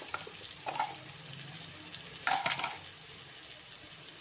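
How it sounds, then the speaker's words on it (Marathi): Tomato masala with turmeric, chili powder, garam masala and salt fries in a pan, hissing with a bright steady sizzle and a couple of louder stirring scrapes. "आता याला मी फ्राय करून घेते।"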